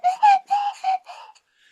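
A swanee whistle imitates the voices of the Clangers, giving a string of short, sliding, warbling toots in speech-like phrases, close and clear against silence and trailing off into a faint tone.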